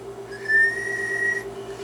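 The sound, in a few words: whistling into a microphone to test an amplifier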